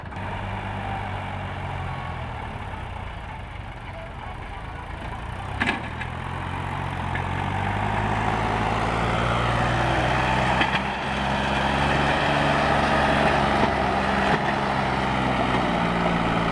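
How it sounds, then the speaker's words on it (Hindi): A Mahindra 265 tractor engine drones steadily while loading a soil trolley, a continuous loud diesel rumble with a low throb that swells slightly partway through, with no voices. "745 मिट्टी भरते हुए, महिंद्रा 265।"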